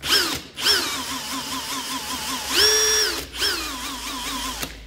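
An Ozito 18V 60Nm brushless hammer drill whirs up to full speed in short repeated bursts, each trigger pull giving a sharp rising whine that holds steady and then stops, close and loud with no talk.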